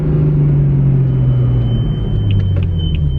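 A deep BMW M4 engine with a cold air intake idling loudly up close, a steady throaty rumble that holds without revving.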